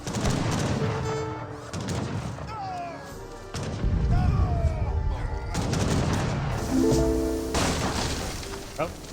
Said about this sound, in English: Oh, that was a big explosion.